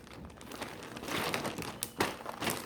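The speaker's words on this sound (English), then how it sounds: "I came in this kind of plastic poly bag" A plastic poly bag from a sling bag's packaging crinkles as it is handled, producing close, continuous rustling with a few sharper crackles, with no talking.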